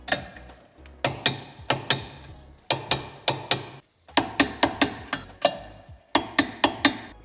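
A wrench ratchets tight the 12 mm bolts of a tow hitch being fitted to a 2014–2021 BMW 2 Series Active Tourer F45, torqued to 87 Nm, in close sharp bursts of rapid clicks separated by brief pauses.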